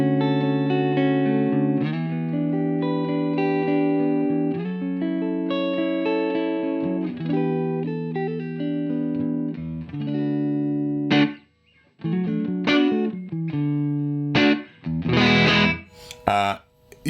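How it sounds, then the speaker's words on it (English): Electric guitar played through a UAFX Lion '68 Super Lead amp pedal set for an edge-of-breakup clean tone, with sustained ringing chords for about ten seconds, then sparser, louder picked chords and strums that grit up slightly, no talking. "I like that sort of slightly edge of breakup clean sound where if you play it quietly"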